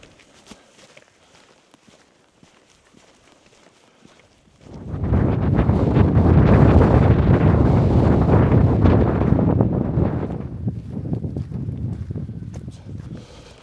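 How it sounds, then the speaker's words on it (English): Strong southeasterly wind gusting across open fells near Clough Head in the Lake District, roaring loud and close against the microphone for several seconds after a quieter start with footsteps, then easing slightly. "And the wind's coming in from the southeast"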